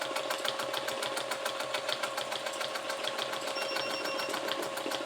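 Sewing machine fitted with a Quilt Halo and stitch regulator, free motion quilting feather shapes: a fast, even, continuous stitching rattle, steady and close with no talk.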